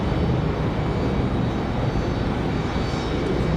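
A jet airliner's engine exhaust at Raleigh Durham airport on a windy day roars loud and broadband, a dense continuous rush filling the whole moment with no voices.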